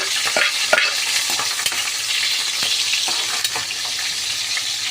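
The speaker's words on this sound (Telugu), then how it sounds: "ఆయిల్ అయితే కొంచెం హీట్ అయిన తర్వాత ఆనియన్స్ అయితే వేసుకోవాలి" Onions dropped into heated oil for raw banana curry give a loud, close, continuous sizzle, broken by repeated stirring scrapes and small clicks.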